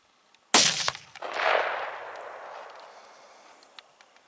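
A single loud hunting rifle shot at a whitetail buck cracks sharply, then rolls away in a long fading echo across open country.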